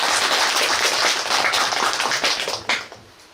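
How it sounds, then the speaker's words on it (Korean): Applause from a conference audience for a professor, a dense wash of many hands clapping at steady loudness that thins and tapers off toward the end, with a few last isolated claps. "다시 한번 우리 전북대 하만희 교수님께 박수 부탁드리겠습니다"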